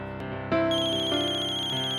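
A phone ringtone plays indoors, a loud sustained electronic melody that starts after a brief soft tone and carries on steadily with no talking over it.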